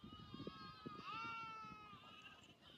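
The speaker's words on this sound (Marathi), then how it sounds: "आल्यात जवळ मेंढ्या वराडत्यात बारक्या कोकऱ्यांचा चाललाय आरोड" Lambs and sheep grazing close by bleat in wavering, drawn-out cries, faint and somewhat distant, with low background murmur and soft thuds beneath.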